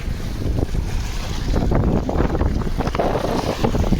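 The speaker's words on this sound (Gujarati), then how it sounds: "જોઈ શકો છો કેટલા જોરથી મોજા આવે છે રહ્યા" Strong floodwater waves surge across a broken road after 12 inches of rain, a steady loud wash of rushing, churning water with heavy wind buffeting the microphone throughout.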